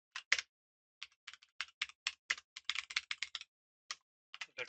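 Quick, quiet clicks of a computer keyboard as code gets typed, coming in uneven bursts with short pauses between them, close to the microphone and with no talking.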